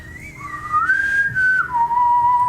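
A whistling wind effect through a rusted metal door from the Mansions of Madness app game rises and falls as one eerie, sustained tone, steady and fairly loud over a low background hum.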